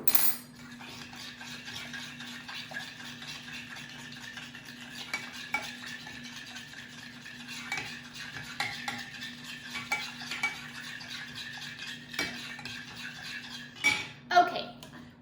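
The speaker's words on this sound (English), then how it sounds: "I'm going to add 1 teaspoon of salt and stir until it's completely dissolved" Steady stirring of salt into a gelatin mixture for bath jellies, with a spoon scraping and clinking against the bowl throughout and a faint hum underneath; no voice.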